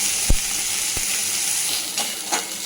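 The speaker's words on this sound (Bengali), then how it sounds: "এই অনেক ভাজা হয়েছে, এবার দিয়ে দাও তো" Fish frying in oil in a pan, a steady close sizzle throughout with a few brief sharp pops and two louder spatters near the end; no voices.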